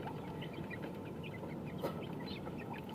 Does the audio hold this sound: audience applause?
no